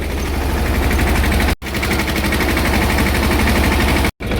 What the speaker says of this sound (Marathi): औषध मारायला चालू केलंय.